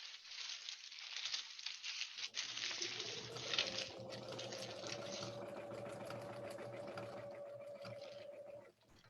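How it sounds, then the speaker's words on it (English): A sewing machine stitches fabric at close range, a steady mechanical whir that holds evenly for several seconds after some brief handling noise at the start. "Going to try and sew a bit closer to the camera this time."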